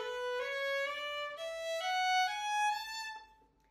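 A violin plays legato, slurred notes with an even bow, gliding smoothly upward through a short run of connected pitches before fading out softly.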